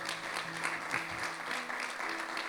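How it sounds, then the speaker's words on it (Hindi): Church congregation applauding during a service: steady clapping from a modest group of people, moderately distant and even, with faint background murmur beneath. "जोरदार तालियां काजल के लिए।"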